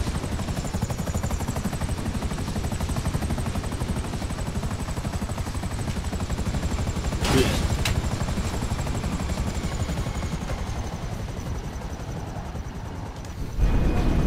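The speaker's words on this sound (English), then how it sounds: "Why run up the hill when you can fly a helicopter up the hill?" A helicopter in a video game whirs loudly and continuously, its rotor chop steady and close, with a brief sharp burst partway through and a thump near the end, no talk over it.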